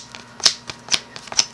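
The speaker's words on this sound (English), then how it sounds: "obviously this is a horrible shuffling job" Magic: The Gathering cards being shuffled by hand, heard as three quick, crisp papery riffles spaced about half a second apart, close and dry with no talking.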